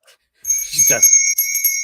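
A bright bell rings sharply and lingers with a clear sustained tone, interrupted once and struck again, with a short bit of voice in between.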